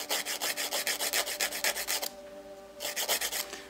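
A nail file rasps across the free edge of a fingernail to shorten it, making quick rhythmic back-and-forth strokes, a short pause, then another burst of close, soft scraping.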